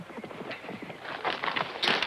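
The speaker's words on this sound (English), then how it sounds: "Get off that horse." Horse hooves clip-clop in a steady, uneven walking rhythm at moderate distance, growing a little louder toward the end, with no talk over them.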